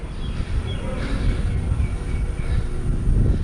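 A train rumbles across the Bogibeel rail-road bridge over the Brahmaputra in Assam, heard from inside the bridge structure as a loud, continuous low roar with faint voices beneath.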